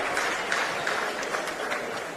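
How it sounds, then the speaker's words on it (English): Football grand final crowd applauding an injured player, a continuous spread of clapping from both sets of supporters at moderate distance, steady with no break. "Great sign of respect from the crowd there, giving him a round of applause"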